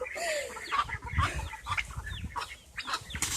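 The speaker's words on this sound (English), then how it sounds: "All right, Kaylin, I'm going to push them, the baby ducks this way" Baby ducks peep and chirp in quick, scattered bursts while being handled up close, with soft rustling and bumps of movement between the calls.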